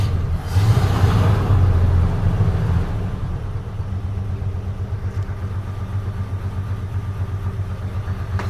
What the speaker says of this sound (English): I hear an exhaust leak.